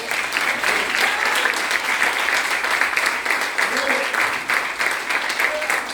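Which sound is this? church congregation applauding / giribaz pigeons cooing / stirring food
church congregation applauding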